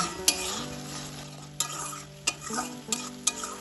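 Tomato, green chili and ginger paste sizzle in hot oil in a pan, a steady frying hiss broken by a few sharp scrapes and knocks of the stirring spoon, close and with no talk.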